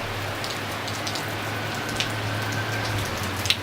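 Steady rain falls on a surface, a dense even hiss close by with a few louder drop taps near the end, and no voices.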